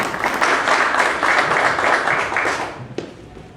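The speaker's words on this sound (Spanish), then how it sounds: "Fuerte las palmas para el nuevo miembro del Centro de Estudios Históricos Militares del Perú." A ceremonial audience applauds a new member of Peru's Centre for Military Historical Studies, a full, even wash of many hands clapping that fades out near the end with a single sharp knock.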